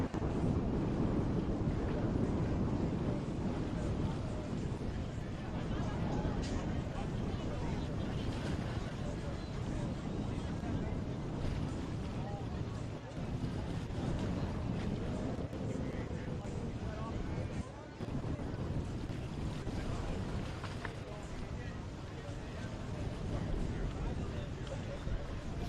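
Race boats idle and mill around on the Lake of the Ozarks before a powerboat race, a broad, steady engine drone mixed with heavy wind buffeting on the microphone, under a commentator's voice.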